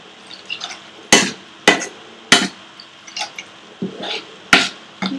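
Prawn chilli sauce being mixed in a dish, a series of sharp utensil clinks against the dish with soft wet stirring between them, close and spaced about every half second to a second.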